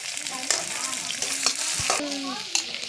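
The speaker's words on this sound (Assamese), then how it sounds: "তাৰপিছত কাটি ৰখা এটা মিডিয়াম সাইজৰ পিঁয়াজ এড কৰি দিছোঁ" A medium-sized chopped onion goes into hot oil with bay leaves for an Assamese jackfruit curry, giving a steady close sizzle broken by a few scraping stirs of the spoon against the pan.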